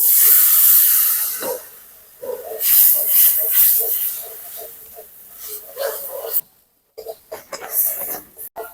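A loud steamy hiss and sizzle as water hits spice masala of turmeric and salt frying in a pan for a fish oil-and-chilli curry, surging, fading and cutting out in bursts.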